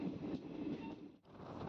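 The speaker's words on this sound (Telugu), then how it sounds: "మన ట్రైన్ కృష్ణానది బ్రిడ్జ్ మీదకి అయితే ఎంటర్ అయింది" An Aurangabad Express passenger train rolls over the Krishna River bridge past Gadwal, a steady low rumble heard from on board with a brief dip in the noise midway.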